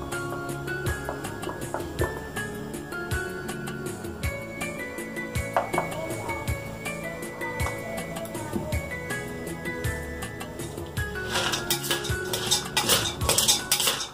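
Areca nut pieces being mixed with Darbar masala into mava, heard as dense clinking and scraping of a spoon against a metal bowl, rattling and busy throughout and growing louder and harsher toward the end, with no talk.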